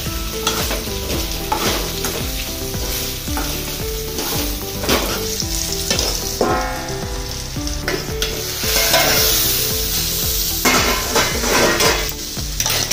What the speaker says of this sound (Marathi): याला मी चांगले परतून घेते आणि वाफेवर शिजवून घेते.